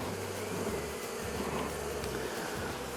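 Honeybees at an opened hive after a storm, a dense, steady buzzing from many insects close by, continuous and fairly loud with no voices.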